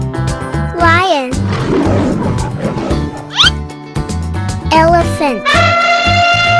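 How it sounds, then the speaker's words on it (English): A cartoon lion's roar from a children's animal and paint-colour cartoon, a loud, swooping animated roar set among bright music and sound effects, with other playful cartoon animal calls nearby. "lion"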